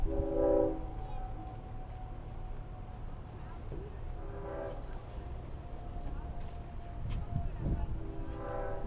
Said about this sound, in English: here's the headlight of the train as it rounds the curve near North Country Road